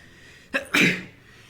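A single human sneeze, a short sharp intake followed by a loud explosive burst, close and clear against a quiet room with no talking.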